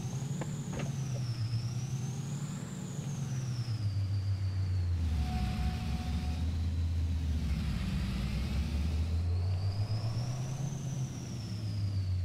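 Car driving along a road, a steady low engine and road rumble that rises and falls through shifts in speed, heard from inside, with a brief faint tone midway.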